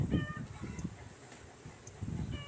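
Chickens squawk and cluck in agitated bursts inside a coop, loud at the start, fading to a quieter stretch, then rising again near the end.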